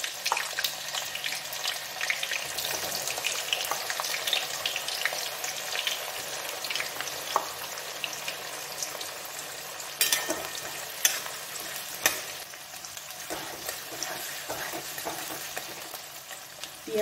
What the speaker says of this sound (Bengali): পেঁয়াজটা ভাজা হতে হতে আমি একটা কাজ করি